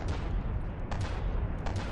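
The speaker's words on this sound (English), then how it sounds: "The Seawiz really works well against the incoming missiles and keeps those at bay." Rapid close-in weapon system fire in a naval vehicle battle game, a dense burst of gunfire shooting down incoming missiles, fairly quiet with short louder cracks and no talk.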